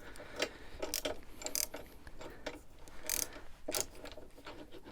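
Ratchet tightening a nut on an X-Frame pannier rack of a Husqvarna 701 Enduro motorcycle, quiet, close clicking bursts in short uneven strokes, no talk.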